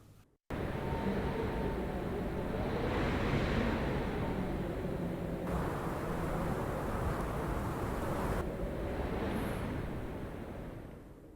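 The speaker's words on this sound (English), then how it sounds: "I chose a slightly more aggressive wind that whistles a bit to make it feel like it's colder and stronger." Aggressive, cold whistling wind for a Death Stranding scene blows as a steady, loud broadband rush with airy hiss, holding strong throughout before easing slightly at the end; no voices.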